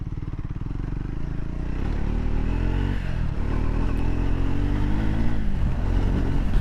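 A 2025 Triumph Scrambler 400X with Bosch fuel injection and a slipper clutch rides off-road, its engine droning loud and close with a steady throbbing note, shifting pitch as it accelerates over rough ground amid wind noise.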